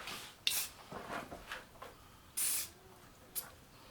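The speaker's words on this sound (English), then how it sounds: "what is that stuff to spray? It's the accelerator" Short hissing bursts of CA glue accelerator sprayed onto glued woodwork, several quick spritzes of differing length with faint handling noise between.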